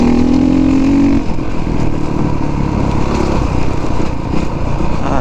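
A 450 dirt bike engine drones loudly and steadily while trail riding over bumpy ground, with slight shifts in pitch as the throttle varies and no talking.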